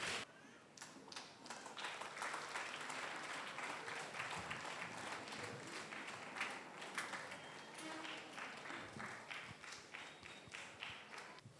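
A church congregation at a golden jubilee celebration claps loudly and continuously, dense rapid applause filling the hall for over ten seconds.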